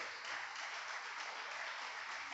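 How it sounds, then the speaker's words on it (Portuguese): A church congregation applauds during a Portuguese-language sermon, a continuous wash of many hands clapping together, soft and distant but steady, with no clear speech over it. "Dá um aplauso a Deus e fica de pé."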